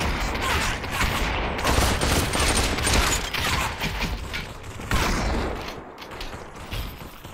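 Rapid bursts of gunfire from the VR battle royale game Population One, dense and loud throughout with mechanical clicks and rattles between volleys, with no talk over them.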